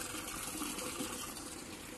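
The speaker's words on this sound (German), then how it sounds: "Da wird Wasser abgepumpt." Water is pumped out at a construction site on a former mail-order centre grounds, giving a steady rushing gush that holds even and moderately loud for the full stretch, with no talking.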